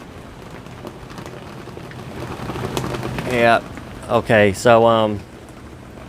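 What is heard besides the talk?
rain coming down outside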